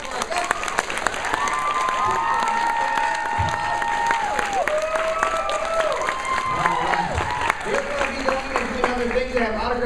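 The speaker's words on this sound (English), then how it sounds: "give a big round of applause for our guests" Audience applause for guest panelists at a 2013 convention panel, a sustained crowd clapping and cheering that stays loud and steady throughout, with tonal sounds and some voices mixed in beneath it.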